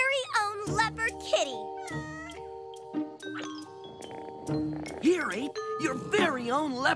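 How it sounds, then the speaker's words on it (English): A cartoon leopard kitten meows in a series of high, wavering cries, mixed with chiming ding-dong tones and cartoon music, while characters talk around it. "Here, Ape, your very own leopard kitty"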